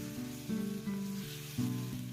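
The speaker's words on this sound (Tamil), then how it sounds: "இதில் 1 மீடியம் சைஸ் தக்காளியை சின்னதாக கட் பண்ணிட்டு இதையும் நல்லா வதக்கி எடுக்கிறேன்." Chopped tomato and ginger garlic paste sauté in a pan for a chicken curry, giving a steady, soft sizzle with slight shifts as the mixture is stirred, heard alone.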